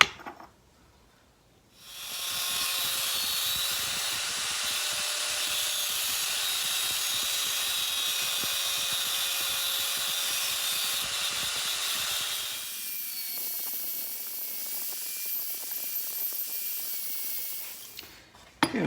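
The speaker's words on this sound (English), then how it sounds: "the little fragments that are left from cutting with the cutoff wheel" A cutoff wheel grinds through metal bits in a workshop, a harsh, loud hiss that starts abruptly, holds steady for about ten seconds, then drops to a lighter whirring as the wheel spins down.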